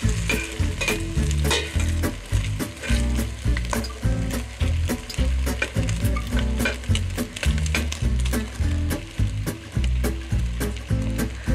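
Korean seafood pancake batter sizzles and crackles steadily in a hot oiled pan, a dense continuous frying hiss with scattered pops and occasional utensil scrapes, close and fairly loud.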